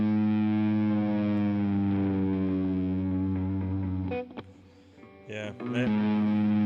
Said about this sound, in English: Sounds a lot better with distortion.